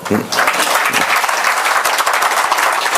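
An audience at a religious discourse applauds with dense, sustained clapping that keeps an even level for the full three seconds, with some voices mixed in.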